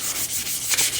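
A car mirror cap is hand-sanded with 600 grit sandpaper in a quick run of close, scratchy rubbing strokes, alone with no talk.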